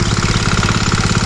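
A farm machine engine runs at a steady idle, its rapid, regular knocking pulses loud and close, with a rough mechanical chug that does not let up.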